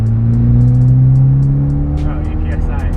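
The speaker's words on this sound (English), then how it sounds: "we're gonna do our first third gear pull right now" Mitsubishi Evo X tuned to around 340 wheel horsepower revving up through a third gear pull, its steady engine drone climbing in pitch, loud and close, with faint clicks above.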